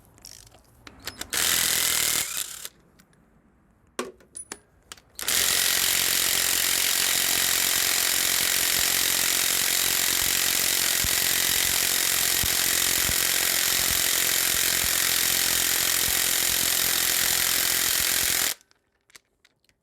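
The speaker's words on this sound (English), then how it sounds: "I can spin them out with my drill, impact drill." A battery impact drill spins out motor mount bolts on a Chevy truck, whirring loudly and steadily for a long stretch after a few short bursts, buzzing continuously before cutting off abruptly as the battery dies.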